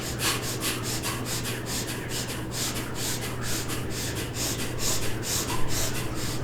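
Rapid, forceful nasal sniffs in a yoga breathing exercise, a steady train of short bursts repeating evenly for several seconds at close range, with no talk over them.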